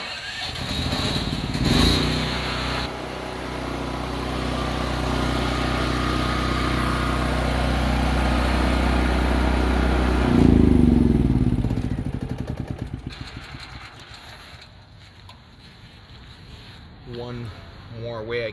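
A Firman portable generator engine cranks and fires, settling into a loud, steady running drone with clattering mechanical noise, then cuts down toward the end as a person talks nearby.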